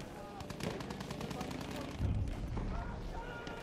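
Sustained automatic gunfire from Battlefield 1 combat, dense rapid bursts layered with heavier booming shots that swell louder near the end, with a voice talking over the battle.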